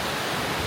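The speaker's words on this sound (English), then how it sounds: "there's the waterfall right behind us" Broadband roar of a big waterfall on a South Carolina hiking trail, a steady full rush of falling water heard close by and alone, with no talking.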